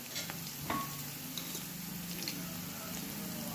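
Chene snacks frying in a pan, giving a steady low sizzle throughout with a few soft stirring knocks, close and moderately quiet.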